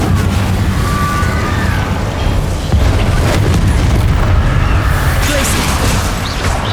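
Incendio fire spell cast in the video game Hogwarts Legacy, a dense burst of booming, crackling fire blasts layered over continuous rumbling combat noise, loud and close throughout.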